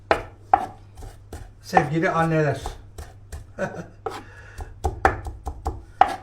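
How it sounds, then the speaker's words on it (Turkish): Quick, irregular knife chops through parsley on a board, close by, interrupted by someone speaking over a faint steady hum. "Evet, maydanozumuzu doğradık."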